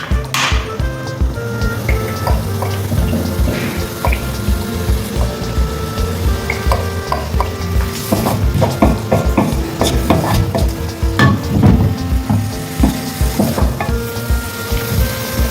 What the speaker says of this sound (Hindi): अब इसी के साथ मैं कुकिंग ऑयल ऐड करूँगी।